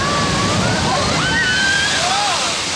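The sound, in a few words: water splashing on Grizzly River Run rapids raft ride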